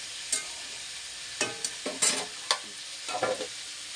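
Vegetables with chilli being stir-fried in a pan, a soft sizzle broken by several sharp scraping stirs and clatters in short bursts, close and fairly quiet.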